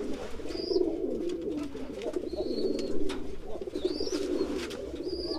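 A male pigeon cooing in courtship while other males are nearby: repeated low, throaty rolling coos, close and moderately loud, with a few brief high chirps from other birds above them.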